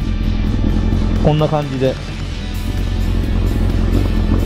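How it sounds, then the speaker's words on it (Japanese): A Honda CB750F motorcycle with a freshly tuned, well-synchronized engine idles with an even, steady exhaust rumble close by, while someone speaks briefly over it partway through. "排気音もちょっと聞いてみますか。"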